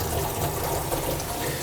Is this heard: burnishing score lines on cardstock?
no